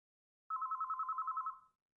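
A telephone ringing in a visual novel game, one clean electronic trill of rapid pulses lasting about a second, alone against silence.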